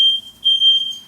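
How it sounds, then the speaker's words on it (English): A smoke alarm sounds during cooking at home, a piercing steady high beep close by that pulses in short bursts, with faint background noise beneath. "Yo, the fire alarm went off, bro."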